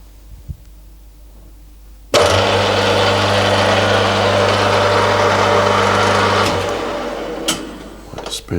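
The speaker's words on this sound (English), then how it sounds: "Alright, let's start drilling some holes." A drill powers up abruptly and runs steadily while boring holes for a hot air engine crank, a loud constant whine that eases and winds down near the end with a few clicks.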